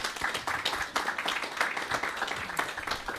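Audience applause at a live French podcast show honoring a cabaret performer, steady clapping filling the room for several seconds, moderately loud and continuous.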